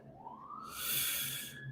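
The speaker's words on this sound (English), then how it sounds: "Sorry you're hearing this police siren" A police siren outside rises in a sweeping wail, starting low and climbing to a louder, brighter tone before holding steady, moderately distant with no speech over it.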